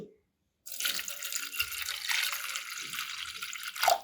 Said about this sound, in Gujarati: ગોળમાં આપણે પાણી એડ કરી અને એને ગરમ કરવા મૂકી દઈશું